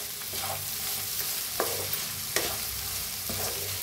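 Potatoes being stirred and pressed in a hot sizzling pan for a South Indian-style potato bhaji, with a steady frying hiss and a few sharp spoon scrapes against the pan, no talking.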